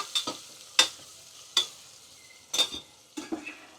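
Onions frying in a pan, with a quiet sizzle under a handful of separate scraping stirs spaced about a second apart.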